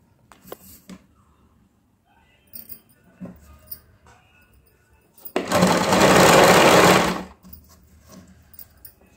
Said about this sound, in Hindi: अब मैं इस साइड से अंदर से सिलाई करूंगी